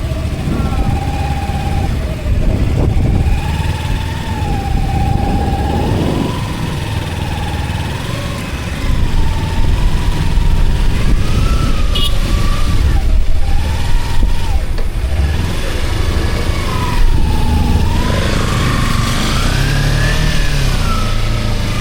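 A Kawasaki Ninja 300 motorcycle engine runs while the bike is being loaded, revving up and down in uneven swells over a continuous loud idle throughout, with a voice faintly under it.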